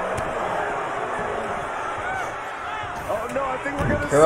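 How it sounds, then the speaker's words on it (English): An arena crowd in a wrestling video game murmurs and jeers in a steady low roar, with a commentator talking over it and the noise swelling toward the end. "The crowd isn't liking this one."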